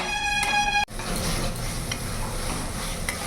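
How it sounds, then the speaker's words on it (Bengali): Spice masala for a cauliflower and potato kalia being sautéed and stirred until oil separates, a dense close sizzle with stirring scrapes, following a brief tonal ringing at the start. "যতক্ষণ না মশলার থেকে তেল ছেড়ে দিচ্ছে ততক্ষণ ভালো করে কষিয়ে নেব"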